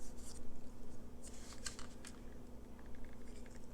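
Scissors snip through a paper border for a paper bag album, with several short, quiet crisp cuts in a small burst and a few faint rustles of paper afterward.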